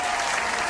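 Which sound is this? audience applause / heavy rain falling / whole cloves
audience applause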